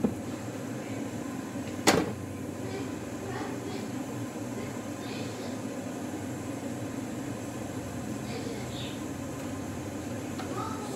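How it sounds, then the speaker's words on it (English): A lid is set back onto a pot of cooking rice with a single short clack, followed by a steady low hum of background noise and faint clicks. "Put back on the lid."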